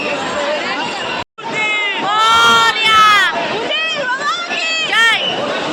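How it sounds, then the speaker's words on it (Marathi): A dense crowd of devotees packs the Chintamani Ganpati pandal at Chinchpokli, with loud overlapping voices, shouts and chanting-like calls rising and falling close by throughout, broken by a brief drop at one point. "हे बघा किती गर्दी आहे"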